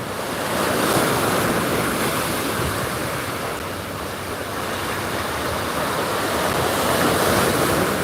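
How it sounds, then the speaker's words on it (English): Waves crash in New York harbor during Tropical Storm Fay, a continuous roar of surf mixed with heavy wind buffeting the microphone, loud and unbroken throughout. "Now the waves are starting to really crash now."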